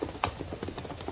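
Hooves of three riders approaching in an old-time radio western drama, a quick run of soft clip-clop beats close by for just over a second, with no voices over them.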